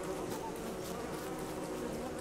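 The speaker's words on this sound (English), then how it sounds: "I don't think killer bees count." Angry killer bees in the game Don't Starve Together give off a steady, dense insect buzz, loud and continuous throughout with no talking.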